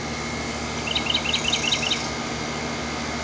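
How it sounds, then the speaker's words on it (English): Small birds chirp outdoors on a Charlotte morning, a quick run of about six high tweets in a row over steady broadband background hiss. "Listen to my little bird, my orchestra. It's a symphony out here."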